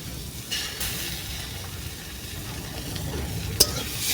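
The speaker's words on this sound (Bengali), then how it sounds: "দিয়ে একটু ভেজে নেব এরপর আমি একটু জল দিয়ে দেব সেদ্ধের জন্য" A cabbage mixture with raw mango-ginger sizzles softly in a pan, with occasional spatula scrapes and one bright metallic clink near the end; fairly quiet and close.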